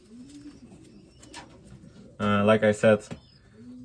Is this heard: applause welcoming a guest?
no